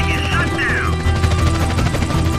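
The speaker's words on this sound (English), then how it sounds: "the helicopter will try to start shooting me" A helicopter in GTA San Andreas hovers and opens fire, a steady whirring rotor drone overlaid with dense rattling gunfire bursts, loud and continuous throughout.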